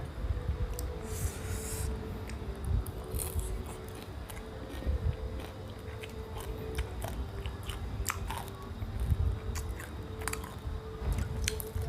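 Fried shrimp being chewed close up, with soft, continuous wet crunching and biting at a low, steady level.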